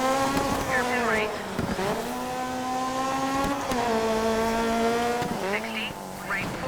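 Rally car engine in DiRT 3 held on throttle, a steady high buzzing drone that rises and dips through several surges, with spinning tires and a brief squeal, while a co-driver's voice calls pace notes over it.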